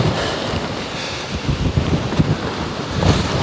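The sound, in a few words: strong 40 mph wind, Storm Bert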